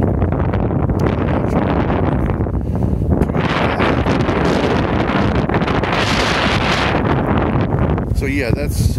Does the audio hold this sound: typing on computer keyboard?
no